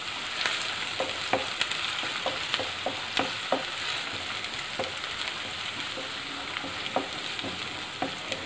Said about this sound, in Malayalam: ഇനി ഇതിൻ്റെ ആ പച്ചമണം മാറുന്ന വരെ നമുക്ക് നന്നായിട്ടൊന്ന് ഇളക്കി കൊടുക്കാം.